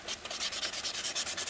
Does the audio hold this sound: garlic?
no